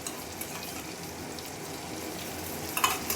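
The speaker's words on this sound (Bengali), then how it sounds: "সমস্ত মশলাগুলো খুব ভালোভাবে নেড়ে চেড়ে মিশিয়ে নিচ্ছি" Spice masala being stirred with whisked yogurt in a pan for Bengali doi katla, a steady soft sizzle with light scraping throughout and a few sharper clinks near the end, no voices.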